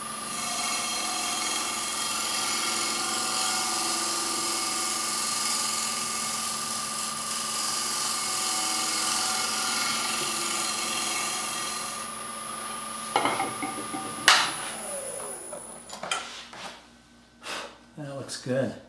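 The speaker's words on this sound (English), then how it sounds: "I come around the edge, I roll it onto its side, so I'm getting a shear scrape." A wooden kuksa cup spins on a wood lathe while a tool shear-scrapes fine shavings, a steady whirring hum for about twelve seconds, then the tone breaks up into intermittent scraping and knocks near the end.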